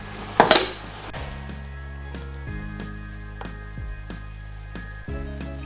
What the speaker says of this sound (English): I'm going to add the rice straight into the pan